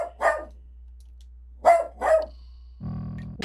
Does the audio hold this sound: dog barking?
yes